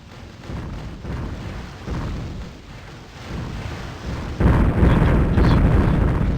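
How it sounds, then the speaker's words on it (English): Enemy ships firing weapons at the player's ship in the space game Escape Velocity Nova, a steady run of loud booming explosions and bursts that grows denser and heavier toward the end, with no talking. "they are firing at me"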